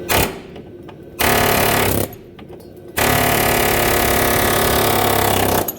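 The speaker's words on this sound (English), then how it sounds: "All right, so now I got a tapered punch on my air chisel. We're gonna hit it in the center." Air chisel fitted with a tapered punch hammering a rusted suspension bolt, in three loud, rapid rattling bursts separated by short pauses, the last burst running several seconds.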